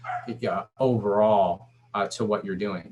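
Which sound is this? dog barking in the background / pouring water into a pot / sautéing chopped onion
dog barking in the background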